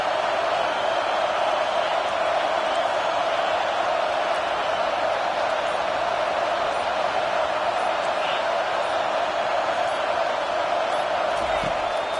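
A stadium crowd at a South Carolina versus USC college football game roars in a steady, dense wash of noise that holds without clear peaks or lulls.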